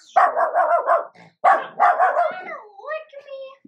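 A dog barks and yips several times in quick bursts, close and fairly loud, ending in a drawn-out whine, indoors while its owner fusses over it with treats.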